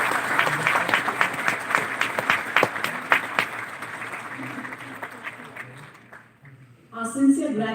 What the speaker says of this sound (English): So a huge round of applause for our education students.